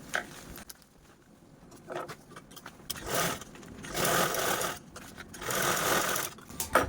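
A sewing machine top-stitches a blouse cover in several short bursts of fast, close stitching separated by brief pauses.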